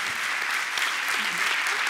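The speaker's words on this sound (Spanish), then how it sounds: "Den un aplauso al Señor." Congregation at a church conference giving a sustained round of applause, a dense, steady clapping from many people that carries on without a break, with faint voices mixed in.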